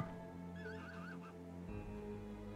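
Horses in the RimWorld video game give a wavering whinny over a dense, steady background of music or game ambience, fairly faint and partly masked, with no talking.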